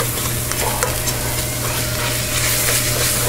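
Taco soup with ranch and taco seasoning packets gets stirred in a pot, a dense steady bubbling and scraping that runs loud and unbroken throughout, with no talking.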